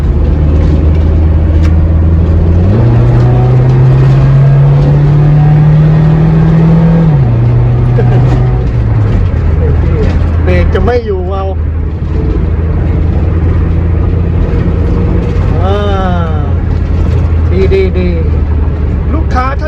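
A Mitsubishi L300 van fitted with a Toyota 3S-FE engine and automatic gearbox accelerates, the engine note climbing steadily and then shifting, heard loud from inside the cabin while someone talks over it.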